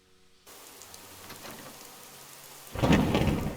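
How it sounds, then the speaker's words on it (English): A thunderstorm in the video game Fallout: London, with steady rain hissing throughout, then a loud, close rumble of thunder breaking in near the end. "My, that storm came in awfully quick."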